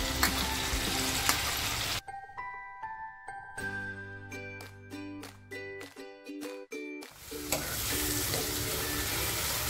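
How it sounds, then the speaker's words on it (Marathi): Ginger, garlic, chili, coriander and mint paste frying in a pan for a millet pulao: loud sizzling that opens and closes the clip, broken in the middle by a run of ringing metallic clinks and tones. "मसाले ना खमंग फ्राय झाले पाहिजेत, म्हणजे पुलावला सुद्धा एक छान चव येते"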